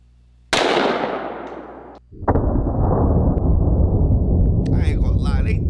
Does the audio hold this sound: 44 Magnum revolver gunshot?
yes